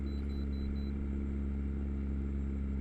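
A deep, rumbling truck engine brake in American Truck Simulator drones steadily with a rapid low throbbing, loud and constant.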